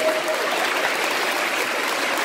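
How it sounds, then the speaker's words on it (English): Crowd at a church youth rally applauding, a broad sustained wash of many hands clapping with a faint tone near the start, no voices on top. "Round of applause for the church that serves."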